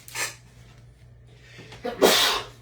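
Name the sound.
sneeze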